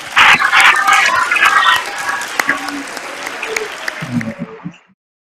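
An audience at an inaugural proclamation event at a letters festival gives the proclaimer a loud, dense round of applause, with voices and cheers mixed in, that gradually dies away.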